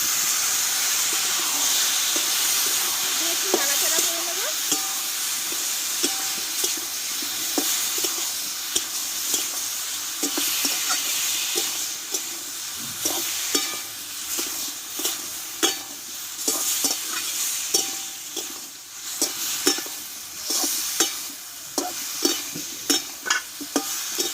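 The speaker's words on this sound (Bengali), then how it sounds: "দিয়ে কিন্তু আমি ভালোভাবে কষে নিয়েছি আলু পটলটা" Potato and pointed gourd curry with coconut-raisin paste sautéing in a pan: a steady, loud sizzle and hiss runs throughout, broken by frequent scraping stirs of a spatula, with no talking.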